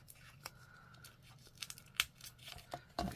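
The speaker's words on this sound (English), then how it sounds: "let's see if we can peel our dimensional stuff off" Adhesive foam dimensionals being peeled off a folded paper pinwheel tower card, heard as a run of small, close tearing and ripping sounds with sharper peaks near the end, fairly quiet overall.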